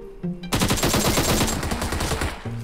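Gunfire in the PUBG Mobile video game. After a short quiet lead-in, a rapid automatic burst of loud, sharp shots continues for about two seconds and then stops abruptly.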